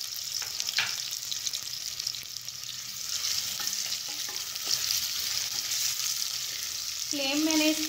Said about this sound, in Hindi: ऑयल हमारा अच्छे से गर्म हो गया है, प्याज ऐड कर देंगे।